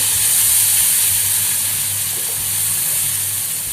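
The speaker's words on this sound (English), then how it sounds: "Now we'll add the prepared tomato and onion puree." Tomato and onion puree hits a hot pan for Maharashtrian misal, giving a loud, steady steamy hiss and sizzle close by, with no talk.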